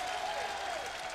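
Spectators at an esports Counter-Strike match between Luminosity and Virtus.pro at MLG Columbus clap in a continuous, dense wave of applause from a large arena crowd.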